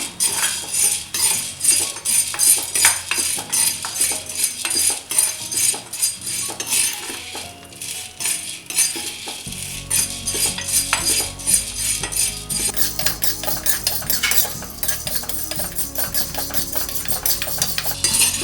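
Black pepper and spices dry roasting in a pan for a Madurai-style mutton chukka masala, with a spoon or spatula scraping and clinking against the metal in a steady, busy rhythm and no voices.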